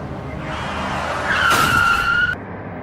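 A car engine rushes close, then tires let out a sharp, rising skid squeal lasting about a second before cutting off abruptly.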